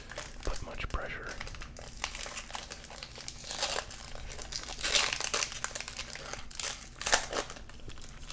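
Thin packs of 2023 Topps Series 1 baseball and 2017 Optic basketball trading cards crinkle and tear as they are opened, close and soft, with rustling bursts coming and going and quiet talk in between.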